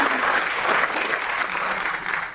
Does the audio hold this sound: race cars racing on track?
no